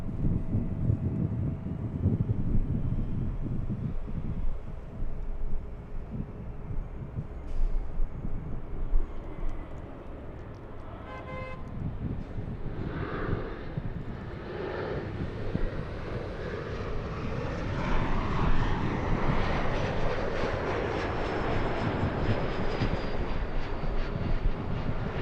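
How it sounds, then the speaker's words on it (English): An Embraer E175 jet flying in from Reno, Nevada toward LAX, heard as a steady, distant engine roar mixed with wind noise that swells and thickens as the aircraft draws closer. "We have an E175 flying in from Reno,"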